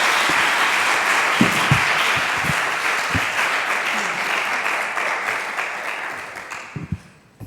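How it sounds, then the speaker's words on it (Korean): An audience at a special lecture on marriage in family ministry gives loud, sustained applause to welcome Professor Dr. Chris Shirley. The thick wash of clapping holds steady for several seconds, then thins and dies away with a few stray sounds. "그럼 우리 교수님 나오실 때 여러분 큰 박수로 환영해 주시면 감사하겠습니다"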